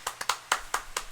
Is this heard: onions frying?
no